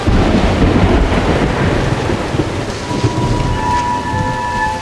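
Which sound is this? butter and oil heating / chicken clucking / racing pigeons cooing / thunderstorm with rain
thunderstorm with rain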